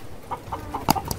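Australorp laying hens in farm cages, housed three hens to a rooster, give a handful of short, close clucks at irregular intervals, the last few a little louder.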